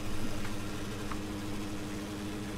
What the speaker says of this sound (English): It's funny, I've gotten the habit of just turning the sound off when I'm in this tractor.